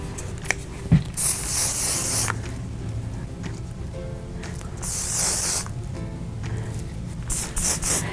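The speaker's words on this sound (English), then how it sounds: "I'm going to put a little Perfect Hairspray on there" Davines Perfect Hairspray sprayed onto styled hair in a salon, several short close bursts of aerosol hiss separated by pauses, with quiet handling sounds between.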